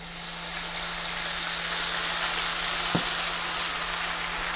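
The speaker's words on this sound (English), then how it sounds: "When you drop the batter in, if you see it go halfway and then pops right back up, it's ready." Shrimp tempura batter frying in hot oil, a steady broadband sizzle with a constant low hum beneath and one brief pop as batter drops in midway, no talking.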